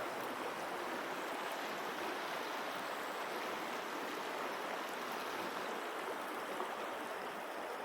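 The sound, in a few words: Paria River stream flowing water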